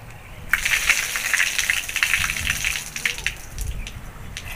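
Water splashes and swishes in a bowl as a goat heart is rinsed by hand, close and continuous with small clinks, alone without talking.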